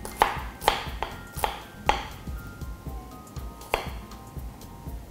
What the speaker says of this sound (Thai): ซอยหัวหอมนะคะเตรียมเอาไว้